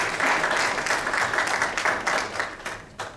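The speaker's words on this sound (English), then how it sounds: "big round of applause for them." Audience applause fills a hall at an evening community presentation: steady, dense clapping from many hands, fairly loud and sustained throughout, tapering slightly near the end.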